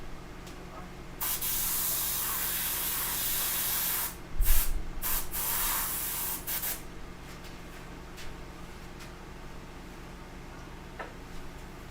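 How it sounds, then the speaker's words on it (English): An airbrush sprays paint onto a sculpted figure in bursts of soft, close hiss, a long steady spray followed by several short puffs, then quieter faint hissing and clicks. "Airbrush is, of course, the French pronunciation of airbrush."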